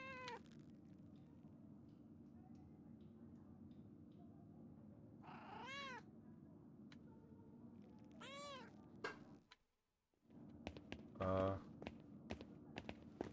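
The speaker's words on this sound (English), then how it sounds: "I fed the cat." A cat in the medieval adventure game Pentiment meows three times at spaced intervals, each call clear and rising, over a steady low background hum with a few soft taps.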